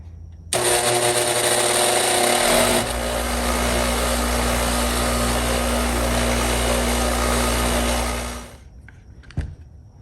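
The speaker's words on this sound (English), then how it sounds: "I'm going to use a bench grinder" Bench grinder running while parts are cleaned, a loud close whir that starts abruptly and holds steady with a grinding hiss for about eight seconds before spinning down, followed by a sharp clank.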